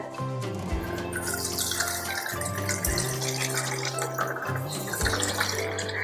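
Soaking water pours from rice through a strainer set over a bowl, a steady close splashing rush that runs throughout the stretch, with a tonal hum underneath and no talking.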